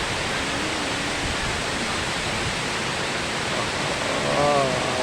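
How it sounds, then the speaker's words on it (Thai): Khlong Lan waterfall in Kamphaeng Phet, Thailand, roars as a steady, dense wash of falling water, with faint voices in the background. "วันนี้เรามาน้ำตกคลองลานครับ"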